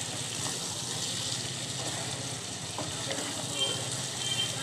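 Potatoes fry in a pan with spices while being stirred, a continuous close hiss and sizzle with occasional scraping, heard alone without talk.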